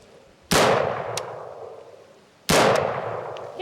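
Two loud, sharp rifle shots from shooting practice, spaced about two seconds apart, each ringing out with a long decaying tail over a quiet outdoor background.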